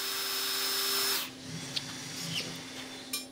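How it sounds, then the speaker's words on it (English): Power drill boring holes into a steel framework: a loud, steady whine for just over a second that abruptly stops, followed by quieter scattered clicks and clatter. "This was also a good time to drill and tap some holes into the framework"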